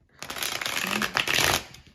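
A deck of tarot cards is shuffled in one quick riffling burst lasting under two seconds, close and crisp, with no talking.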